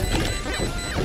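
A flashbang goes off in Valorant, a loud, harsh crash-like burst that fills the whole second over busy game noise.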